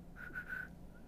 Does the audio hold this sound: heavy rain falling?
no